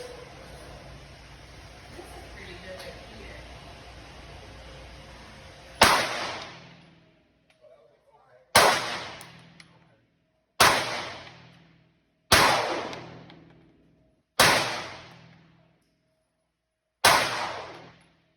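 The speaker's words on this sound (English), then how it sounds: "that's my first 5 shots at 10 yards" Six sharp, loud shots from an FN Reflex Micro 9 pistol fired at 10 yards, evenly spaced about two seconds apart, each ringing out and decaying, after a quiet outdoor stretch.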